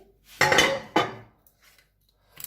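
A frying pan is handled for making pancakes, giving two sharp metallic clanks close by, the first ringing briefly, followed by faint light knocks, with no talk.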